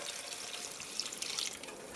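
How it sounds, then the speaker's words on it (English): Bean water being poured into a cooking pot for Caribbean-style vegetarian beans and rice, a soft, steady watery splash and trickle that runs for about two seconds at low volume. "Now I'm going to add the 4 cups of bean water."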